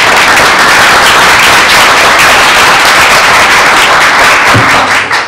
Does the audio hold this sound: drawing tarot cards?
no